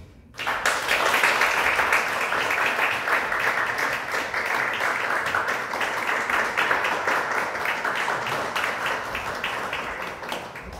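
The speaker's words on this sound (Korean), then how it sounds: "우리 케이크 커팅 할 때 다 같이 큰 박수로 축하해 주시면 감사하겠습니다." Sustained applause from a book launch audience celebrating a cake cutting, starting abruptly and holding steady and loud for about ten seconds with dense clapping.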